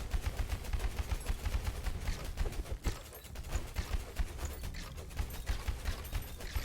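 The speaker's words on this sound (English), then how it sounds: "All those explosions, you see all the explosions happening from" Corpse explosions from a physical crit build in an action role-playing video game pop in a dense, rapid, continuous stream of sharp bursts, loud and uninterrupted throughout, with no speech.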